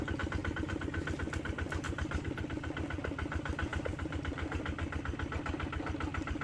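A vehicle engine climbs slowly up an old wartime mountain road, a steady low throbbing drone with even pulsing and no let-up, fairly quiet and close, with no voices.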